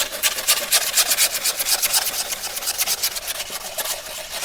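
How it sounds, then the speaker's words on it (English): Sandpaper rubs steadily back and forth on the rough edge of a skateboard deck, making a loud, close, rhythmic rasping scrape that carries on alone. "So sand it down so it's nice and smooth."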